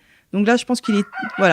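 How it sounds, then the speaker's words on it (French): A rooster crows its morning call after being let out of its coop, the long wavering cry running under someone speaking French close by. "Oui, le coq s'est mis à chanter depuis qu'on est rentré."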